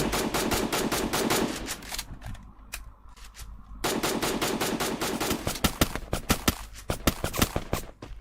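Rapid Beretta gunfire in a video game during an online tournament, bursts of automatic shots loud and close, pausing briefly before resuming in a dense rattling volley with sharp individual cracks toward the end.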